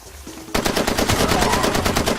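Rapid automatic gunfire in the video game Far Cry 2, a loud sustained burst of machine-gun shots after a quiet moment, with no voices over it.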